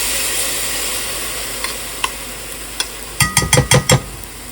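Onions and peppers with a spoonful of jarred minced garlic hit a hot pan for vegetable soup, a steady sizzle under a few light scrapes, then a quick run of loud stirring clatters near the end.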